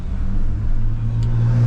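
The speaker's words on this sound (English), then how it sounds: "All the trucks rolling through here. Real nice trucks. Squatted, lifted." Lifted and squatted pickup trucks roll past on a Sarasota, Florida street, a loud, close low engine rumble that builds slightly, heard with no talk.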